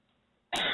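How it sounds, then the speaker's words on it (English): A single harsh, close cough bursts out abruptly after a brief near-silence and is cut off at the end. "Goddamn cough."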